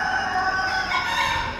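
A rooster crows among other fowl at a Kuwaiti animal auction, a loud sustained crow standing out over steady clucking close by.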